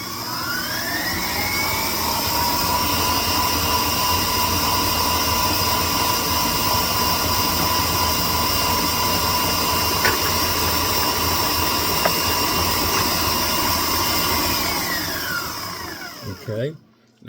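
An electric mixer creaming butter and brown sugar whirs steadily at high speed for a long stretch, a loud continuous motor drone that winds down at the end.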